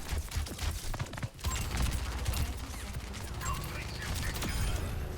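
Bursts of submachine gun fire ring out in a multiplayer shooter game, a series of quick staccato volleys layered with clanking mechanical sounds, fairly loud and continuous across the stretch.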